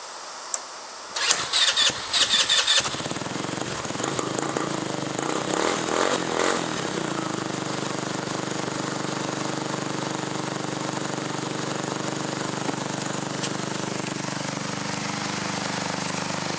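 Motorcycle engine with Seafoam fuel treatment in the tank cranks and catches after a few seconds, then settles into a steady, close, continuous idle for the rest of the stretch, with no voices.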